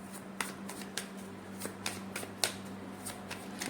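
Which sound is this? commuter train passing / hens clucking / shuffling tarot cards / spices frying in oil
shuffling tarot cards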